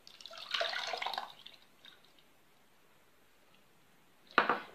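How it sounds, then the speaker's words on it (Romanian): Lemon juice with pulp poured onto sugar in a bowl while making a lemon cream: a soft, splashy pour lasting about a second, then a quiet gap and a second short, brighter splash at the end, with no talk. "Vom adăuga și sucul de lămâie cu pulpă."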